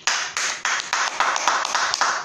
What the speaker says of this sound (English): Clap for Philip Shaibu